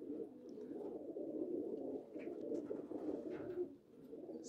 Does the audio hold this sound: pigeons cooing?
yes